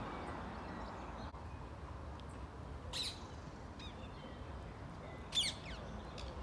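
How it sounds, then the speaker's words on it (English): Parakeets squawking over an allotment: a few sharp, harsh calls in short bursts, faint against a steady background hiss. "that squawking type noise, that's a parakeet"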